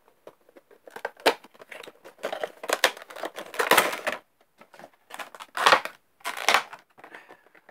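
Spider-Man Funko Pop box being opened by hand, giving irregular bursts of cardboard and plastic crinkling, tearing and snipping. The sound is close and moderately loud, with short pauses between the bursts and no speech.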